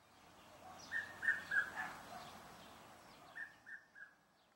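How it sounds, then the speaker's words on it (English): A distant red-chested cuckoo repeats a short series of three whistled notes, then pauses and repeats the phrase, faint over quiet background. "Despite being clearly audible, the red-chested cuckoo is very difficult to spot."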